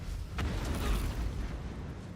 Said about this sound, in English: Let's watch this explosion.